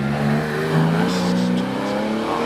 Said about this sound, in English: this is a Porsche 911 RS replica